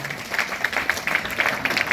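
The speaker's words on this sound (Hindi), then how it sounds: "एक बार हम लोग खड़े होकर ताली बजाएंगे उनके लिए" Audience applause at a success seminar in Mumbai, a steady patter of many hands clapping at moderate volume for about two seconds, with no voices over it.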